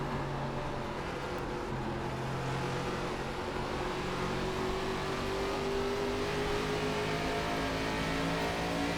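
An ARCA race car engine in iRacing at Phoenix drones steadily at moderate revs, its tone slowly rising and falling as the car carries speed through a corner, with no talk over it.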